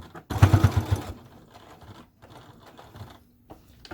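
A sewing machine runs a quick burst of stitches with back stitching on a dog leash fold, a loud rapid chatter for under a second followed by fainter, slower needle taps and handling sounds.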